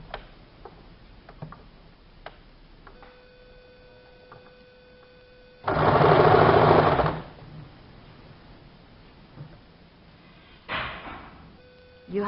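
A sewing machine stitching salwar fabric near buckram makes one loud, sustained burst of about a second and a half, then a shorter run, with quiet ticking and faint handling noises in between.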